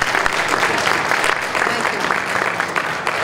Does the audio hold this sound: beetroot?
no